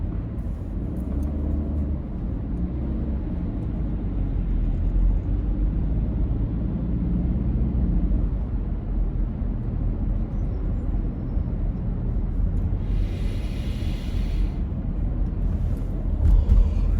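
Steady road traffic heard from inside a moving car: a continuous low rumble of engine and tyre noise throughout, with a brief hiss of something passing close near the end.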